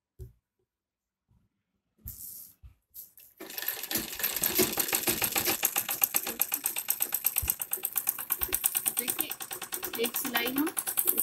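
A sewing machine runs steadily, stitching the sleeve seam of a kurti made from leftover fabric, a fast continuous mechanical chatter after a few short handling clicks and a brief start.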